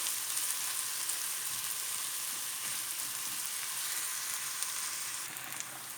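Onions fry with a teaspoon of salt in a pan for broccoli soup, giving a steady, close sizzle and crackle that continues evenly throughout with no talking.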